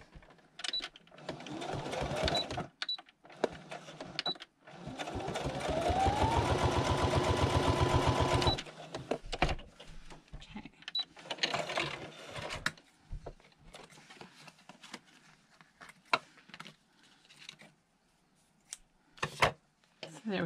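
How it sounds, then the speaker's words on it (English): A sewing machine stitches decorative lines onto a card for a handmade traveller's notebook, whirring steadily for several seconds between shorter bursts, with handling noises and clicks around it. "First I want to put some stitches here."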